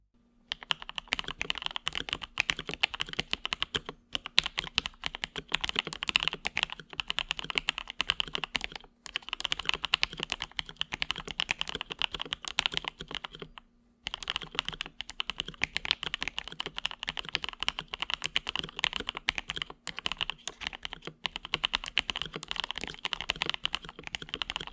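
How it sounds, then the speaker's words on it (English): Rapid typing on a mechanical keyboard, close and clear, with a steady stream of clacky keystrokes broken by a few brief pauses. "let's take a listen to how the keyboard sounds"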